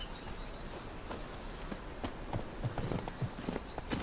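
Hooves clip-clop steadily as a horse trots in The Witcher 3, a continuous rhythmic patter over a low ambient bed with no speech.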